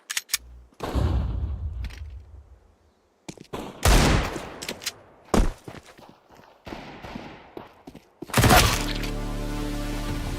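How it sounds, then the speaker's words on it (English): Flashbang grenade and gunfire in a first-person shooter game: separate loud bursts of shots and impacts broken by short silences, ending in a sustained, harsh blast with ringing. "Deploying flashbang."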